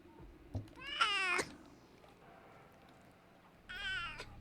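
A cat meows twice, close and clear, with a short drawn-out cry followed after a quiet pause by a second meow, over low background hum.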